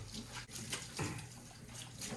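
Hot water runs from a kitchen tap onto a sponge, a steady close hiss of splashing water with small shifts as the sponge is moved under the stream.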